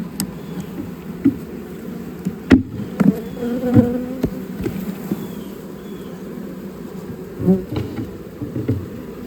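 Honey bees buzz densely around hive frames holding queen cells, a loud, close, continuous drone with a few brief knocks and handling thumps mixed in.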